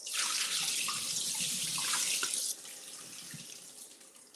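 Tap water runs steadily into a kitchen sink while rice is rinsed, a full close hiss with light splashing that drops in level partway through.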